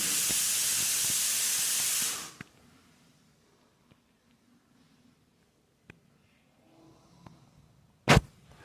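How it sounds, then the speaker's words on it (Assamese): Water poured into a hot pan of fried Maggi noodles sends up a loud, dense hiss for about two seconds, which cuts off abruptly. Quiet follows, with occasional faint clicks and one sharp burst near the end. "মই তাৰপিছত পানী ঢালি দিম আৰু ইয়াত পানী ঢালি দিলে"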